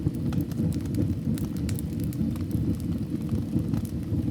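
Wood burns in a fireplace of a snowy Swiss mountain room, a steady low crackling roar with frequent sharp pops and snaps, close and even throughout, no voices.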